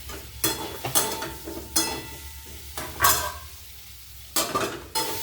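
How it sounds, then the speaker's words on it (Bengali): A spoon stirs potato and tomato curry masala in a pan for a Bengali shol fish dalna, with repeated sharp scraping and clanking strokes in irregular bursts over a low sizzle, close and without talk. "ভালো করে নাড়বো"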